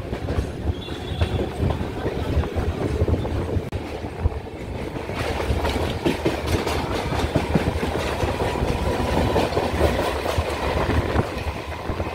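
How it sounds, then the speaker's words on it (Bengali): A local train on the Sealdah line pulls away from Baranagar Road station, giving a loud, steady rumble with continuous wheel clatter throughout and no voices. "আমাদের ট্রেন একদম নির্ধারিত সময়ে বরাহনগর রোড স্টেশন থেকে ছেড়ে দিয়েছে।"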